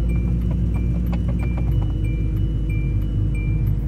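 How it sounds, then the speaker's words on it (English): A Hyundai Tiburon engine idles in cold weather with a steady low rumble, with light, regular ticking sounds repeating above it. "It'll have a little tick because of the damn cold weather."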